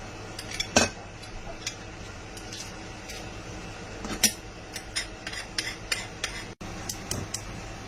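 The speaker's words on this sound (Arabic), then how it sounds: "ده فص الثوم ههرسه،" Sharp metallic clinks and taps of a utensil against a dish, scattered over a quiet kitchen hum, as garlic cloves are crushed for Egyptian koshari.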